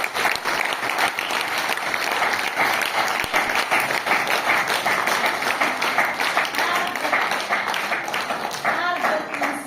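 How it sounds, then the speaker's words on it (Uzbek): An audience applauds a teacher at a school gathering, sustained dense clapping from a crowd filling the whole stretch without a break. "O'qituvchimizga qarsaklar"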